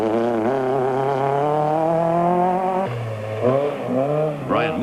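Rally cars, including a Class B Toyota and Volkswagen Golfs, race through forest stages in the 1995 Autumn Trail. A single engine revs loud and close, its pitch climbing steadily, then dropping and surging again through quick gear changes.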